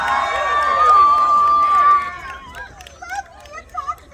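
A crowd at a sword-swallowing act during a Renaissance festival show in Pittsburgh cheers and whoops loudly for about two seconds, then the noise drops to scattered shouts and chatter.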